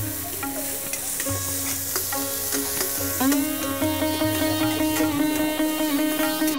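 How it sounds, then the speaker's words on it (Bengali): Chopped tomato fries and is stirred for mutton dopyaja, giving a steady close sizzle under regular scraping and clinking strokes of a spoon against the pan that grow more frequent toward the end. "দিয়ে খুব ভালো করে নেড়ে ভাজতে হবে।"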